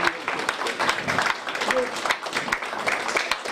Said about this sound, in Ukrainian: студенти, педагоги аплодували своєму студентові стоячи